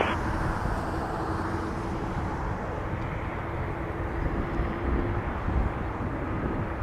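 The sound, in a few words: airliner taking off from runway 23 at Toronto Pearson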